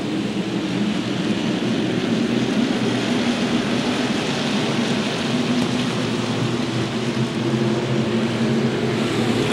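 SK Modified race cars roar around the Waterford Speedbowl oval, a dense, steady wash of engine noise with no breaks, loud and continuous like distant crowd-muffled racing.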